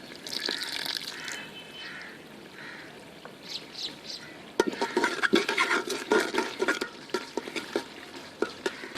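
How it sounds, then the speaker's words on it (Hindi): Water is poured into a pan of frying spices for a village-style aloo pulao, giving a sudden sizzling hiss with clattering stirring that sets in halfway, after quieter kitchen noise and faint talk. "थोड़ा सा पानी डाल लेंगे।"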